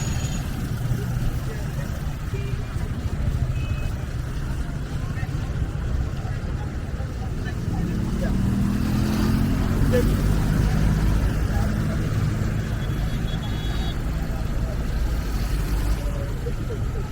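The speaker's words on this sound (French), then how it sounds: "C'est un véhicule de la police." Police vehicle in rush-hour city traffic in Abobo, Abidjan, with a low engine rumble and idling drone amid the surrounding street noise, swelling somewhat louder midway, while people talk over it.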